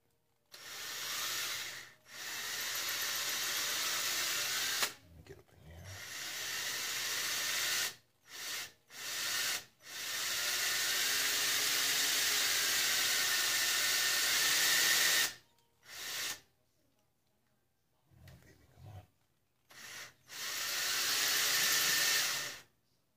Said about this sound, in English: we're gonna drill it out a little bit more